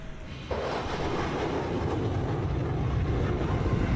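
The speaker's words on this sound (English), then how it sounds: "Somebody's jet's making a lot of noise." A jet airliner's engines in Microsoft Flight Simulator cut in abruptly as a loud, broad, steady roar that holds without change.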